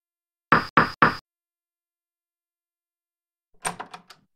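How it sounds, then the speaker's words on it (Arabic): Knocking on a neighbour's door, three quick crisp knocks in even rhythm, then after a pause a softer short rattle of door sounds, with no voices. "من آداب التعامل مع الجيران طرق الباب بهدوء"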